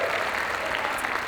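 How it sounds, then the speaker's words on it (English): Brief burst of audience applause at an inaugural ceremony, dense steady clapping from a crowd filling the whole moment. "So another round of applause"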